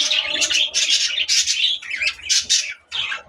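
Budgerigar parakeets, a male courting females, chirp and warble in rapid, close, overlapping bursts of bright twittering calls.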